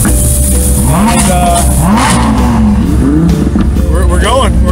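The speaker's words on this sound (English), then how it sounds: "Cars are taking off." Several cars launch from the start of a driving event in Dayton, Ohio, one of them a Lamborghini. Close, loud engines rev and accelerate through rising and falling pitch sweeps, with someone talking over the engine noise.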